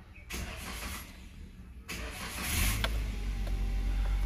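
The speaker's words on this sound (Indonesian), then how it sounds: "terus sekarang tak hidupkan mesinnya friend" A 2017 Toyota Rush TRD Sportivo Ultimo with a manual gearbox starts up inside the cabin. A few quiet clicks come first, then the engine catches partway through and settles into a low, steady rumble.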